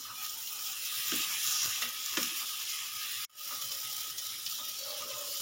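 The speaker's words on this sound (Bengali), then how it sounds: "দিয়ে দিলাম ভেজে রাখা চিংড়ি মাছ" Fried prawns tipped into a hot pan for jackfruit curry, giving a continuous sizzling hiss with a few soft thuds and a brief dropout midway, moderately quiet and close, no speech.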